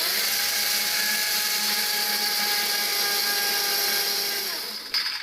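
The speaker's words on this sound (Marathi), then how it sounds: "मिक्सरला छान अशी याची बारीक पेस्ट बनवून घ्यायची आहे" A mixer grinder whirs at a constant high pitch as it blends chutney into a fine paste. The motor runs loud and unbroken, then winds down and stops near the end.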